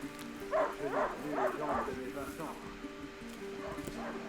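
A dog in the video game A Plague Tale: Innocence gives several short yips and whimpering barks, fairly close and repeated, under in-game characters' voices speaking French.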